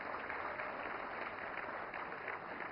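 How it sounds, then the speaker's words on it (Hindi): Applause at a national film awards ceremony in honour of the film Gulmohar, a steady dense wash of clapping from a large audience, sustained and even throughout with no voices. "तालियां।"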